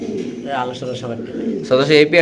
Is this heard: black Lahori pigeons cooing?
yes